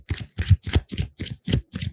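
Tarot cards being shuffled in seven quick, evenly spaced riffling bursts, close and fairly loud, with no talking.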